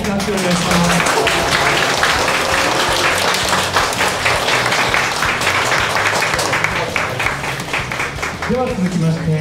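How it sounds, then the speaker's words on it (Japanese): Loud, sustained applause from an audience at a boxing experience event honoring boxer Naoya Inoue, dense clapping filling the whole stretch with some voices mixed in. "大きな拍手をお願いします"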